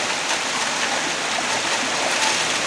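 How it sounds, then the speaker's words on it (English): A hand crank trommel runs into a stream sluice on a creek, producing a constant close rushing wash of flowing water and tumbling gravel with no distinct breaks. "Ray is working the trommel set up on the creek here"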